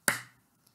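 A single sharp hand clap rings out alone and close, marking one crotchet beat in a music lesson on note values, then fades quickly into silence.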